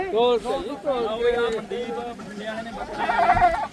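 Several male goat bleats, wavering and nasal, come one after another at close range during weighing, with a louder, busier burst near the end.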